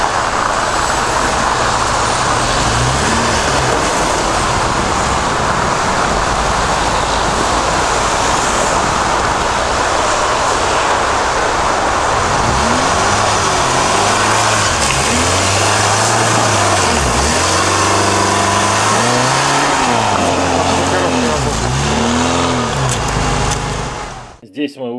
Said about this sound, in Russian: Здесь мы устроили типа соревнования, 4 автомобиля, Нива Бронто, 31-я, УАЗ Патриот и Дастер.